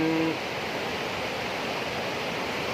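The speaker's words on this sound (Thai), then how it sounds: "น้ำตก คอนปลาสร้อย" Khon Pla Soi waterfall on Don Det in Si Phan Don, Laos, pours with a steady, full roar of falling water, constant and close, after a brief tone at the very start.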